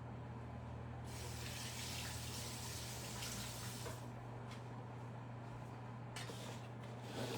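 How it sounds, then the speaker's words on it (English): Tap water runs steadily into a kitchen sink while hands are washed during dinner prep, a continuous close hiss with a low hum underneath and no talking. "Let me wash my hands real quick."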